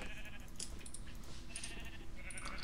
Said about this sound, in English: I forgot just how noisy cows were.